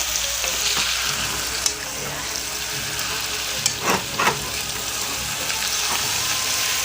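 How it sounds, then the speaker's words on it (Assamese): Potato pieces sizzle steadily in hot oil for an Assamese goat curry, a continuous close frying hiss broken by a few brief clinks and scrapes of stirring. "আলুখিনি দি কিনে সুন্দৰকৈ লাৰি দিব লাগিব।"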